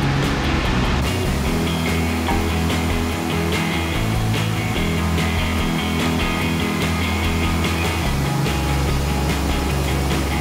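A car driven hard at speed, with a steady, loud broadband roar of engine, tyres and wind that stays constant throughout, with no talking.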